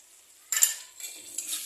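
Chicken masala spice is stirred into a pan with a utensil, a short scraping and clinking of metal against the pan with faint sizzling, close and fairly quiet.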